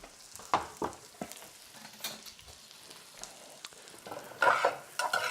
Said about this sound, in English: I'm softening the onions as we speak.